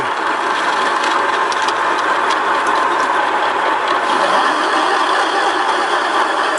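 Metal lathe switched on and drilling with a 23 mm drill bit while making washers, coolant flowing: a loud, steady mechanical whirring and grinding drone that runs unbroken at close range.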